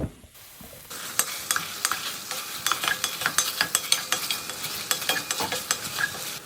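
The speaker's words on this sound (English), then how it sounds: "now we're gonna sear our beef chuck" Beef chuck searing in bacon fat inside a Staub cocotte, a bright continuous sizzle with repeated scraping and clattering as the meat is turned, close and fairly loud.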